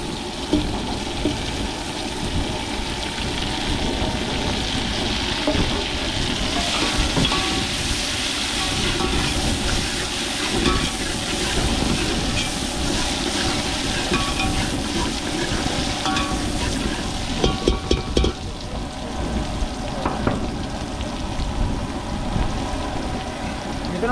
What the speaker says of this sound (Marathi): आपले शिंगाली माशाचे पीस आहेत ते तेलामध्ये शिजवायचे आहेत